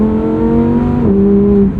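A 2023 Lamborghini Huracan Tecnica in manual mode with paddle shifts, its engine revving in a loud, close, rising whine that dips briefly at a shift and climbs again.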